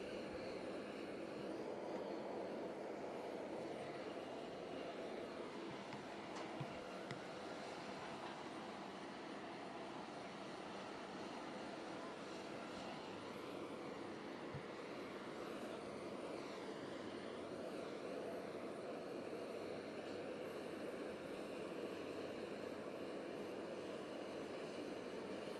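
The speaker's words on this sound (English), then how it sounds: "Hey, Belle, as promised, that plane has landed" A landed airplane at the OAJ airport produces a steady, loud broadband engine roar that holds evenly throughout, with no voices over it.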